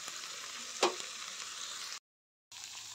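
Fish sizzles steadily in hot oil with a bright, hissing crackle and one sharper pop. The sizzle cuts out briefly before resuming.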